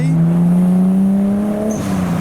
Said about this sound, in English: We've got an R33 GTST pulling in with the TT.